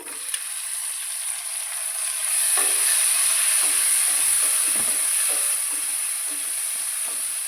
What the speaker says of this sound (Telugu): చిన్న ముక్కలుగా కట్ చేసుకున్న రెండు టమాటాలు వేసేస్తున్నాను